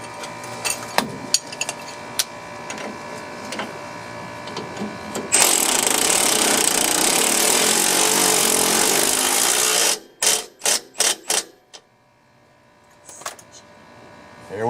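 Power tool tightening a rear shock absorber bolt on an old Suburban being fitted with spring-assist rear shocks, a loud steady buzz of several seconds followed by short bursts, with scattered tool clanks before.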